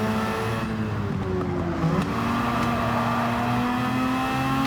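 A race car engine held at half throttle on a straightaway in Gran Turismo 7: a steady, loud, droning engine note with little change in pitch, continuous from start to finish.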